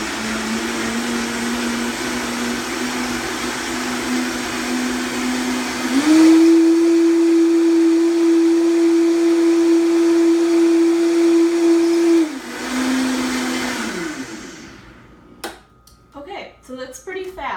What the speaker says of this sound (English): blend it up and make the cashew milk. So put the top on, put it on the Vitamix.